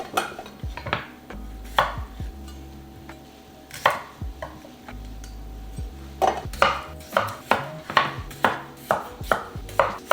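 A knife cuts potatoes on a cutting board in a home kitchen, with sharp, irregular chops that settle into a quicker, steady rhythm near the end, and occasional light knocks of kitchenware between them.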